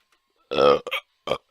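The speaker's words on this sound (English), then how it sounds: "After I burp." A person lets out one loud, drawn-out burp, followed a moment later by a couple of shorter throaty burp sounds, close and clear against silence.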